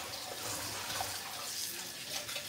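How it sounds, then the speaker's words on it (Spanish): Tap water runs steadily into a sink as an onion is rinsed in a home kitchen, a continuous soft splashing hiss with no break. "Vamos a lavar la cebolla para que se le vaya un poquito lo fuerte"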